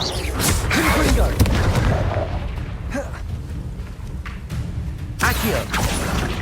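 A Confringo spell blast in Hogwarts Legacy: loud booming, rumbling bursts with a burning, crackling wash, a heavy impact early on and another surge near the end, mixed with game effects.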